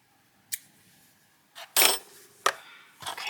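Scissors snip crochet yarn while a piece is fastened off, giving a few sharp, close cutting sounds separated by brief pauses with no talk.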